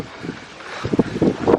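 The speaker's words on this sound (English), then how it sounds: "Man, it is windy as all heck" Strong wind buffets the microphone at Mont Saint Michel, a broad rushing roar with irregular low gusts and thumps that swell toward the end.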